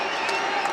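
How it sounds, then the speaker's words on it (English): A wrestling arena crowd roars and cheers in a steady, dense wall of noise, with claps and shouts blending together throughout the short burst. "listen to this crowd erupt here"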